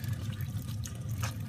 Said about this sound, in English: Let the water drain out in there.